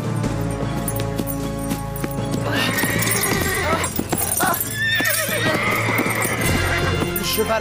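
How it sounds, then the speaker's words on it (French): A horse in an animated series neighs loudly and repeatedly while its hooves clip-clop, the whinnies rising and falling over a steady clatter, close and prominent with a musical score underneath. "Le cheval a dû apercevoir quelque chose d'anormal."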